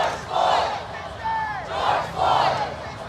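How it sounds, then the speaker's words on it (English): A large street protest crowd in Charlotte, North Carolina chants in unison, rising and falling in rhythmic waves of massed voices that sound close and loud, with a few individual shouts standing out. "the ones that haven't even made it to kneeling yet are still chanting George Floyd"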